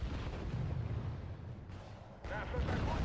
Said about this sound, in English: Now they're shooting.